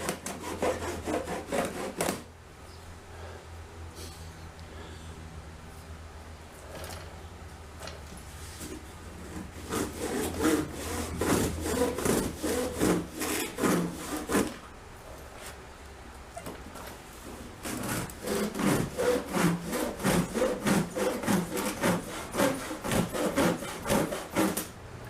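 Large knife sawing through heavy cardboard and plastic packaging on a Quickjack 7000TL car lift delivery, a steady run of rapid scraping strokes with short pauses, close and fairly loud.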